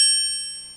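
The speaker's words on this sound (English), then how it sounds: "triangle" A single triangle note from a MIDI beat machine, one bright, ringing metallic strike with a clean shimmering sustain that fades steadily.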